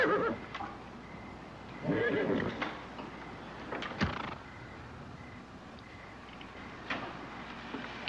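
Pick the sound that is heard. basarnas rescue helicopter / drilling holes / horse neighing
horse neighing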